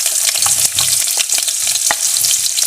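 Garlic and onion hitting hot oil in a pan for spaghetti with spinach, a loud dense sizzle up close with quick stirring scrapes and clicks throughout, no speech.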